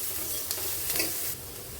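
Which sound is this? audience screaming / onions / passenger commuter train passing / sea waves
onions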